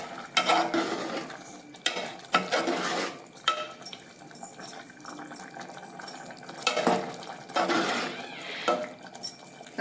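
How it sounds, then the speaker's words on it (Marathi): Bean usal simmers in a pan on the stove, giving a soft bubbling under repeated loud scraping and stirring from a spoon against the metal, with irregular bursts of clatter. "आता ही छानपैकी 3-1 मिनिटं मस्त उकळू द्यायची."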